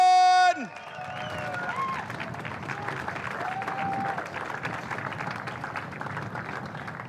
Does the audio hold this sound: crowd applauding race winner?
yes